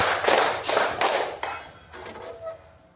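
A classroom of children clapping a rhythm together, several broad group claps in a steady beat, close and loud, fading toward the end.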